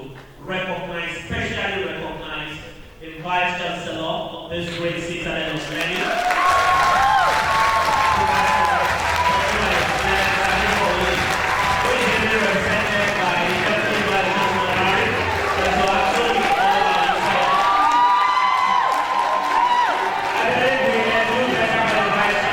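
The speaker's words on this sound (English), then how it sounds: "we are going to be clapping" An audience claps at a college of education graduate induction ceremony. The applause comes in a loud, sustained roar, preceded by a few seconds of amplified voices speaking over a public address system.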